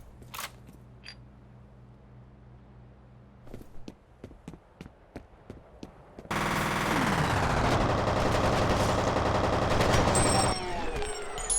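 ASP rifle fire in the video game F.E.A.R., starting with scattered sharp clicks and single shots, then breaking into a loud sustained burst of rapid gunfire that fades into ringing tails.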